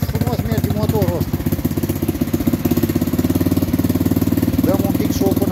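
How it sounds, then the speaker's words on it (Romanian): A Bashan ATV engine runs steadily up close, a loud, rapid mid-pitched throb with an even pulsing rhythm, while someone talks over it briefly at the start and again near the end. "Ia uite ce frumos merge motorul ăsta."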